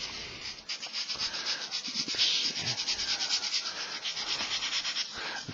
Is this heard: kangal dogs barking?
no